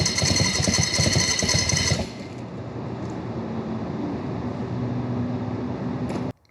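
A jockey shift foot clutch motorcycle sits running in first gear, first a loud rough mechanical clatter, then a steadier low engine hum with a faint whine, ending abruptly.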